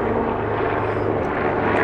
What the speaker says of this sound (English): No, it's a helicopter.